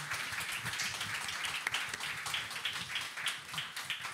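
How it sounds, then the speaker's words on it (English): Symposium attendees clap for the afternoon's presenters in a fairly quiet, distant patter of applause that continues through the whole stretch, with no talking over it. "I'd actually like to start with a round of applause again for our wonderful presenters today"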